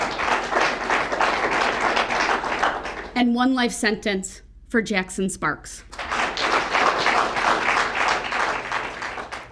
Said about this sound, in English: the court gallery erupting into applause